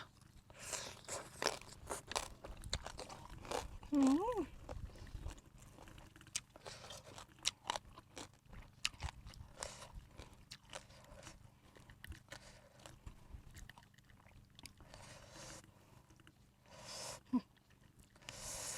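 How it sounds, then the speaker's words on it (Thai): Crisp, close crunching and chewing of a sour green mango salad with freshwater crab, repeated bites in an uneven rhythm over a quiet background, with no talk. "กรอบกรอบมันมันเนาะค่ะ ใส่กับมกม่วงไปเปรี้ยวค่ะพี่น้องค่ะ"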